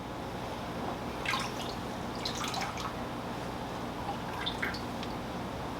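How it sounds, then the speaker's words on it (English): Coarse foam filter sponges from a Fluval 407 canister filter squeezed out in dirty aquarium tank water, making a few scattered wet drips and squishes over a steady low background hum. "dunk them in your tank water, give them a good squeeze."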